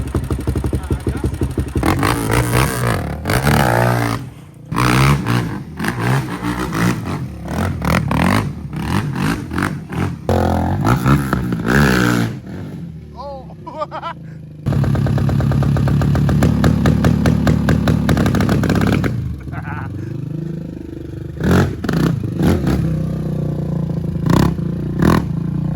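An ATV engine runs at a fairly loud, rough, uneven idle with rattling clatter and brief surges, while voices talk intermittently over it.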